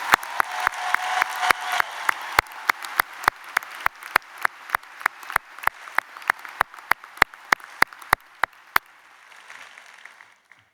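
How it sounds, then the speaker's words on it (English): A university commencement audience applauds, dense at first, then thinning to scattered individual claps over several seconds before fading out. "One more round of applause for our incredible"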